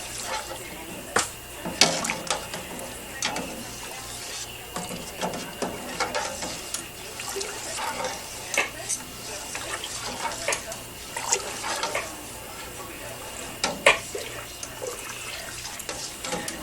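Milk stirred in a pot for homemade pepper jack cheese as calcium chloride is added, with repeated scraping and clinking of the spoon against the pot over faint liquid sloshing, irregular and close throughout.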